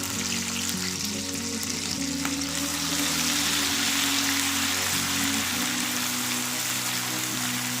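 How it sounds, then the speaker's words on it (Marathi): Ground spice paste and mixture sauté in hot oil for a shengole dish, giving a continuous close crackling sizzle, even and unbroken throughout, with no speech. "तर या वाटणात हे मिश्रण परतून घ्यायचं आहे जास्त नाही आणखी दोन ते तीन मिनटं तेलात परतून घ्यायचं आहे"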